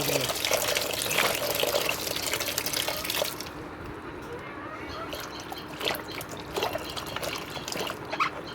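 Taro is rinsed in running water, a loud continuous splash and trickle from a tap that drops to softer dripping and intermittent splashing, with a voice speaking over it.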